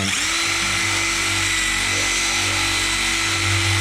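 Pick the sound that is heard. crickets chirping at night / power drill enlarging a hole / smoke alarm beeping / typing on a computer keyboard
power drill enlarging a hole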